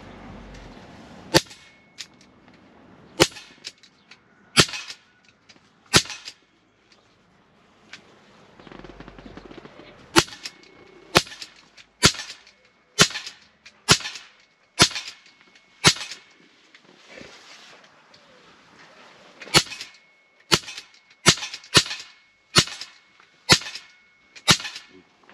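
A rifle fires repeatedly outdoors while its scope is being adjusted, with sharp, loud cracks separated by short pauses at first, then coming faster in quick, regular bursts toward the end.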